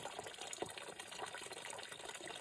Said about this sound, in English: I have to use my pond skimmer, pool skimmer, in this case pond skimmer, to just push it back so I can feed the goldfish